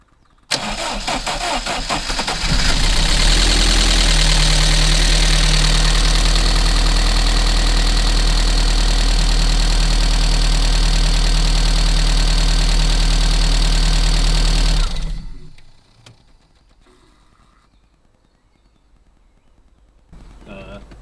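A rebuilt MG TF 160 VVC engine cranks, catches and roars loudly, then settles into a steady idle for about twelve seconds before shutting off, leaving faint background noise.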